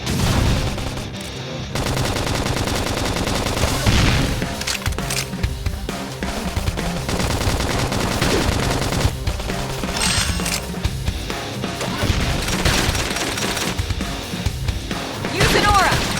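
Dense combat sounds from a Xenoblade Chronicles X battle on Nintendo Switch, with a flame grenade attack among crackling gunfire-like bursts and crashes over continuous music and effects, steady and loud throughout, with game voices calling out.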